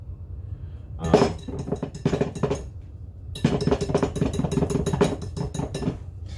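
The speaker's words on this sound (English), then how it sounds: "Maybe a whisk is actually probably not a very good idea for mixing." A whisk beating thick chocolate brownie batter in a bowl, with rapid clinking strokes in two bursts separated by a short pause, close and fairly loud.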